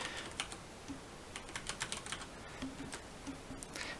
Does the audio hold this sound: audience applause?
no